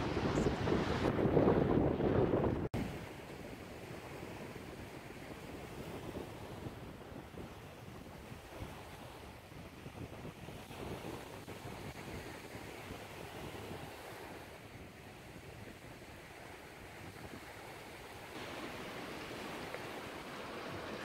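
Steady surf washing in with a constant wind roar, a louder gusty burst at the start, then an even rolling wash of waves continuing throughout.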